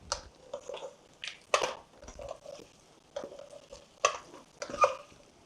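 Skin-on chicken frying in its own rendered fat in a pan, Penka-style chicken fry, with soft sizzling under intermittent stirring and scraping of a utensil against the pan, close and moderate in volume.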